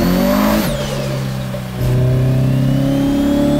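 A JDM car engine in a drifting free-roam video game revs with smooth rising and falling tones, briefly dipping before climbing back to a loud sustained whine.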